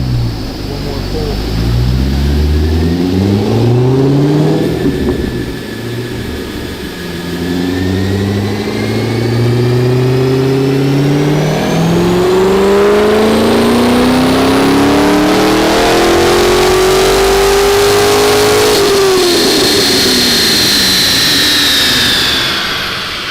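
A heads-only Corvette C6 Z06 V8 on a dyno climbs through the gears in a long, loud full-throttle pull, the pitch rising repeatedly with shifts before backing off near the end, close and dominant over any background.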